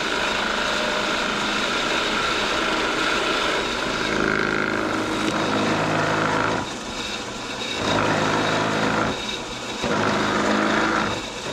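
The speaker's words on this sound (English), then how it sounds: "now I'll just work on boring it out so it's a nice tight fit for the valve stem" A drill whirs in several bursts, loud and close, boring a hole in a plastic bottle to fit a valve stem, its motor pitch changing as it bites in, with short pauses between runs.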